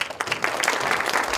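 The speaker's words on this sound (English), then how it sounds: "Please give him a round of applause." Applause from the audience at a 2014 university graduation ceremony in Busan, a brief burst of dense clapping that rises and holds loud throughout.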